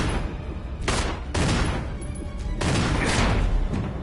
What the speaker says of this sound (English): we might have to use a shotgun shell